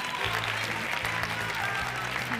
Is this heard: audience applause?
yes